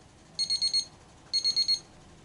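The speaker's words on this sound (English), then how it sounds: "that alarm will keep going off until it gets back to the -1" A chest freezer's temperature alarm sounds in two bursts of four quick, shrill beeps each, close and clear against a quiet room, with a short pause between the bursts.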